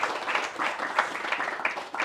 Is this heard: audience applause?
yes